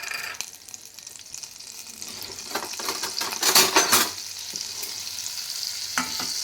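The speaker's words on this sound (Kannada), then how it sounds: "ಫ್ರೈ ಮಾಡಿ. ಬೆಣ್ಣೆ ಕರಗಬೇಕು ಒಂದು 2 ನಿಮಿಷದಲ್ಲಿ." Butter and oil heating and beginning to fry in a hot kadai for dal tadka, a steady close sizzle with stirring scrapes, swelling briefly louder midway, no talking.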